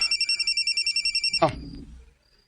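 A mobile phone rings with a rapid, rhythmic electronic trill of evenly pulsed tones that stops abruptly as it is answered with a clatter, followed by near silence.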